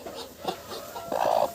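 A broody hen clucks softly and intermittently nearby, a few short throaty clucks followed by a longer, louder murmuring call.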